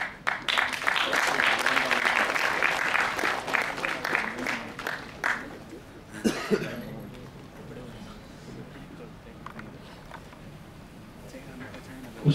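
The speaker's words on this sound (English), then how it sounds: "Please give a big round of applause." Audience at a student peace gathering claps in a strong burst that fades after a few seconds, leaving quieter room sound with a voice speaking now and then.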